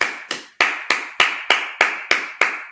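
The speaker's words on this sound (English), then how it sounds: "All right, clap it up." A congregation at a Sabbath service clapping hands in unison, nine sharp claps in a steady rhythm about a third of a second apart, loud and close with no talking.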